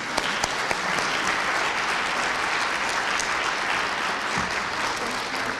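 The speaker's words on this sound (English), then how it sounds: "give Mrs. Clem a huge round of applause." A large audience gives a sustained round of applause to Mrs. Clem, Woodward Public Schools Teacher of the Year, dense steady clapping that carries on evenly throughout without fading.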